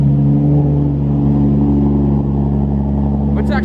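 A Toyota Supra engine idling after a new fuel system install, a loud steady low rumble with a strong hum, close by, and a brief higher noise at the end.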